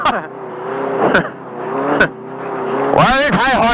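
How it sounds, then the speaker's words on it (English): High-horsepower cars race past on a race course, engines droning with rising and falling pitch and sharp bursts as each one sweeps by close, the roar growing louder and busier near the end while people talk over it. "Why are these high horsepower cars passing me?"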